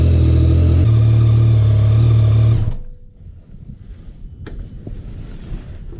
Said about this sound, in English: So the first thing it says to do is to start the engine. So warm it up, let it warm up for several minutes